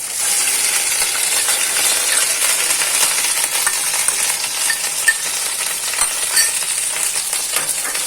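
Soaked semolina is stirred in a hot pan over low gas heat after a bay leaf, producing a loud, continuous sizzling hiss with frequent small scraping and clinking ticks from the spoon.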